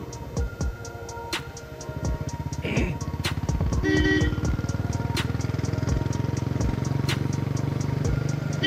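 A Bullet motorcycle rides along with a steady, loud engine drone throughout, punctuated by a few sharp clicks and brief tonal beeps over the running motor.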